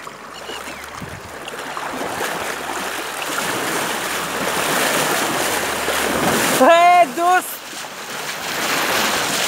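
Loud, steady rushing water of a flooded river fills the scene, with a brief tonal call rising over it near the end.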